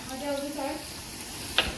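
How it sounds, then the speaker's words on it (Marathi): Fish fries in oil on a griddle, a low steady sizzle with a brief sharp clink near the end, while voices carry on nearby. "इथं आता मच्छीला तेल टाकले बघा"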